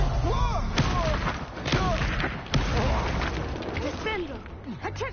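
Explosive Confringo spell blasts in the Hogwarts Legacy video game, several sharp bursts cutting through a dense, busy battle mix with voices shouting over it.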